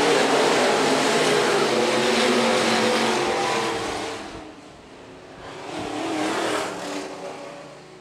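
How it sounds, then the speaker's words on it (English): IMCA stock cars racing at Phillips County Raceway, engines roaring loudly as a pack passes, fading, then swelling again with another car before trailing off. "IMCA stock cars will try to get underway for 20 laps."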